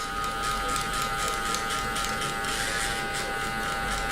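Electric hair clipper buzzes steadily and close, alone, while cutting a burst fade with guards.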